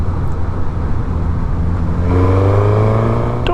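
Suzuki or Yamaha naked motorcycle engine (GSX-S1000, GSX-8S or MT-07) riding on twisty roads, a loud steady drone near the rider that rises in pitch as it accelerates toward the end.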